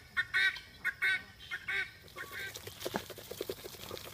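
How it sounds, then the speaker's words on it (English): A female guinea fowl gives a run of loud, harsh two-part calls repeated in a steady rhythm close by, then softer mixed bird chatter and flock noise fill the background. "This is what a female guinea sounds like."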